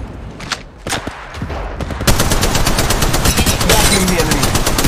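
Gunfire in the mobile shooter Apex Legends Mobile. A few sharp, separate shots come first, then a loud, continuous stream of rapid automatic fire that lasts to the end.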